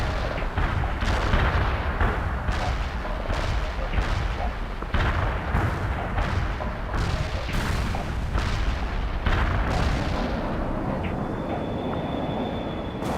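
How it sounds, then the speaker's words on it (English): Artillery fire and explosions from the World in Conflict war strategy game: a loud, steady barrage of repeated booming blasts and gunfire roughly every half second, continuing densely for the whole span with no talk. "Artillery firing."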